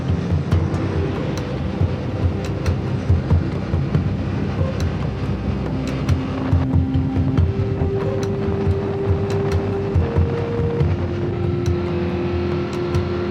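A motorbike rides along a road leaving Pai in Thailand and crosses a historic bridge, its engine a steady, loud, close drone with rising and falling tones as it shifts and holds speed.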